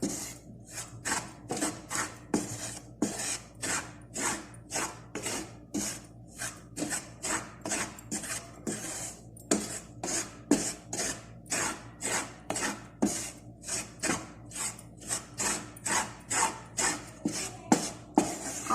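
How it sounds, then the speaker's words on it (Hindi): Wheat flour is stirred and roasted in a pan for baby food, a steady rhythmic scraping of spoon against pan repeating about twice a second throughout, close and clear with no talk. "इसी में अब हम आटा डाल लेंगे। इसको भी हम भून लेंगे।"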